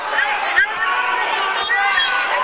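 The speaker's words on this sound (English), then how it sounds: "West Lincoln crowd calling out all the fouls that the officials don't" Home crowd at a physical high school basketball game between West Lincoln and Belmont yelling and calling out fouls, a steady roar of overlapping shouts and chatter with a few sharper cries rising above it.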